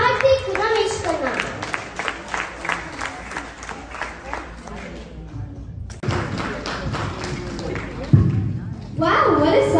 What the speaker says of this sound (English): Let's give a big round of applause to Karthik Rameshkana.